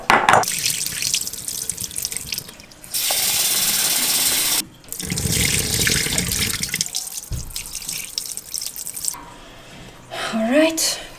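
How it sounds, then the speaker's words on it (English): Items are rinsed under a running kitchen tap, the water gushing and splashing into the sink in close, loud bursts with short pauses and some dripping, and a voice speaks at points. "So I'm basically going to rinse them a couple of times and then let them soak until tomorrow."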